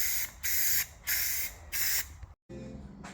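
Rust-Oleum spray paint hissing from a can onto a Chevy squarebody truck bed in four steady bursts of roughly half a second each, close and loud, with short pauses between them.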